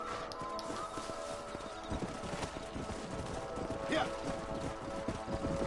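Horses clip-clop and gallop in the open range of the Red Dead Redemption video game, with a brief whinny rising above steady hoofbeats and a dense game soundscape, under occasional voice.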